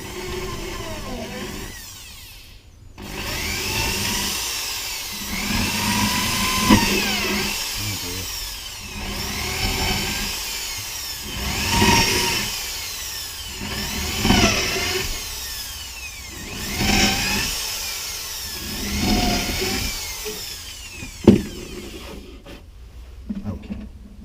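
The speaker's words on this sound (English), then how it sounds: "I was drilling exactly where the other screws were as well" A power drill drives screws into wood while a bait hive is built, sounding in repeated whirring bursts every few seconds with short pauses between them.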